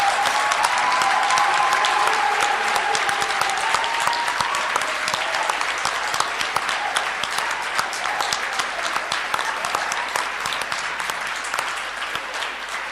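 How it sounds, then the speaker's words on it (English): An audience at a milestone ceremony of a national judiciary office gives a loud, sustained round of applause that holds steady for the whole stretch and only eases slightly near the end. "Let us give them a round of applause."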